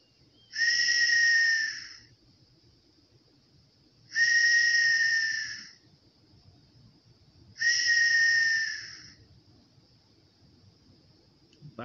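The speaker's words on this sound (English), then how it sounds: "the men heard the sound of the whistle" A whistle sounds three times in long, steady, fairly loud blasts, each lasting about a second and a half and separated by quiet gaps with faint low background rustle.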